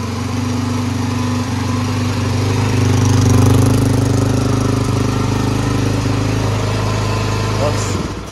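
A Suzuki DRZ 400 motorcycle engine idles loudly and close with the choke on, a steady buzzing single-cylinder drone that rises slightly midway and then dies abruptly near the end.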